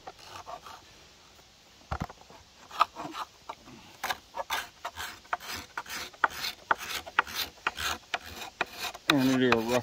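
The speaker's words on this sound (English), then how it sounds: "I'm actually going to bring out the scraper card" A scraper card works along a wooden bow being roughed out, irregular close scrapes and rasps with some quieter stretches, growing busier and louder toward the end.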